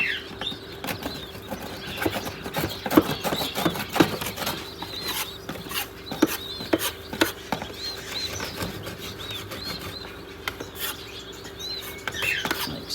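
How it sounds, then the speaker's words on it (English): Scraping of soiled wood chips from a bird cage with a putty knife, a steady run of close, dry scratches and small clattering knocks continuing for the whole stretch with no one talking. "scoop up the dirty soiled wood chip, putty knife, and kind of give all that a really good scrape."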